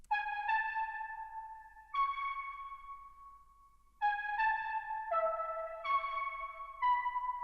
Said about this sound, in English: it's also got an LFO that's modulating the filter